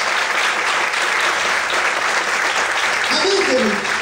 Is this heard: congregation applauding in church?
yes